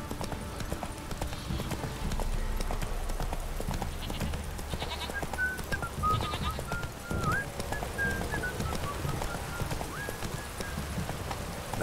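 Roach, the horse from The Witcher 3, gallops with steady, rapid hoofbeats over continuous game ambience and music, the clopping rhythm running throughout at an even, moderately loud level.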